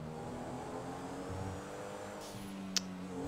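Enus Cognoscenti Cabrio, a luxury convertible modeled on a Bentley Continental, idling in GTA 5 Online: a steady, quiet, low engine drone with no revving, and one faint sharp click near the end.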